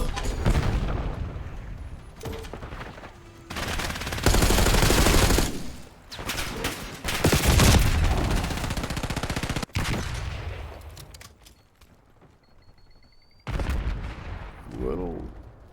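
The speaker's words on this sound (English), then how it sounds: "What are you shooting me for?" Rapid automatic gunfire and explosions from a first-person shooter game's hardpoint match, loud bursts and sustained firing with brief gaps, mixed with faint in-game voices.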